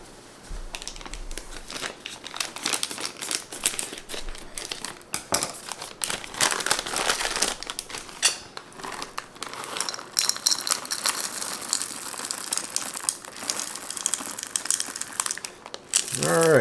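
Crinkly plastic package of chocolate chips opened and handled in a kitchen, loud close crackling and crumpling bursts that run steadily for over fifteen seconds, with some talk in the background.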